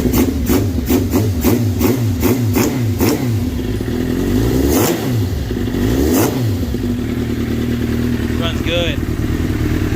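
A 90s superbike engine, just recovered from clogged idle pilot jets, runs with a rough pulsing idle and blips up in two or three sharp revs, loud and close throughout.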